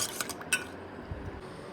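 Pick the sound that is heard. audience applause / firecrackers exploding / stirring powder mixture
stirring powder mixture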